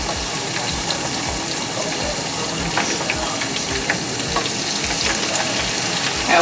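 Chicken wings fry in hot grease with a loud, continuous crackling sizzle and bubbling, close up and without a break.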